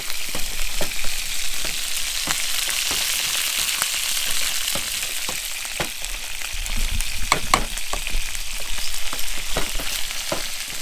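Sausages sizzling steadily in a frying pan, with a constant hiss broken by sharp pops and crackles, close and fairly loud.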